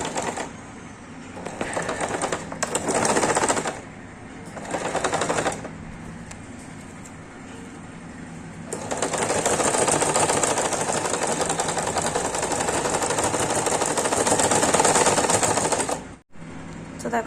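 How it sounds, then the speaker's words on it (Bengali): A sewing machine stitches a small doll's dress in several short runs of rapid whirring, with pauses between them, then a longer sustained run near the end, heard up close and without speech. "তো এইভাবে দেখো এখান থেকে সেলাই করে দেবো।"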